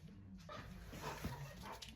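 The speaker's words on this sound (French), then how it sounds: "C'est un chien de tir, je vais te montrer." A gun dog barks softly and whimpers indoors in a paint shop, a few short faint yips and whines close by with no talking.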